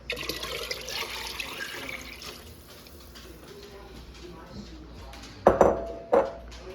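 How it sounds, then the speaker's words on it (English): Tap water streams into a soup pot already holding homemade chicken stock, a steady close pour that fades, followed by two sharp metallic clanks of the pot or lid. "I'm gonna add 6 cups of regular water."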